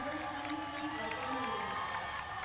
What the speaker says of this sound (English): Large applause there for Crewer, as well as Brooke and Lee